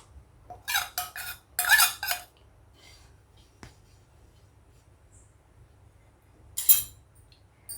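Five to six tablespoons of ajwain seeds are spread across a hot tawa griddle in a few quick scratchy strokes, then near silence, and one more brief scrape near the end.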